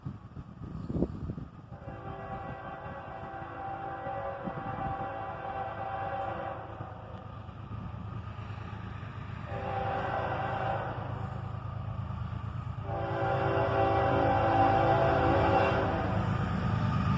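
A southbound CSX intermodal freight train rumbles past steadily, its horn sounding in several long blasts that grow louder toward the end, with no voices.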